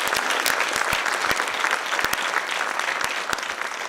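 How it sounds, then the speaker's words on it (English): An audience at a postgraduate course on international commercial and investment arbitration applauds Justice Indu Malhotra, with a full, steady wash of clapping and several sharp, close claps standing out, sustained for nearly four seconds. "I hope you'll join me in applauding her"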